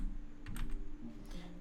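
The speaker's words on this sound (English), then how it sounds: "See, I'm typing, nothing happens." Someone types on a computer keyboard while working in Photoshop: a brisk run of separate, close keystroke clicks with a few short pauses and no talking.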